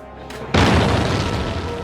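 A cannon fires in a film scene: a deep, sudden boom bursts after a quiet moment and rolls on with a long, heavy rumble.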